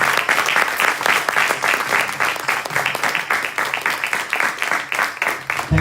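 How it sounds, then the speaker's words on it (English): An audience at a spiritual talk applauds loudly and continuously, many hands clapping in a dense, sustained wash that fills the room without pause. "So I think we definitely deserve a very, very big round of applause."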